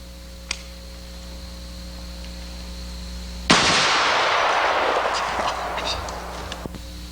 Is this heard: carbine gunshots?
yes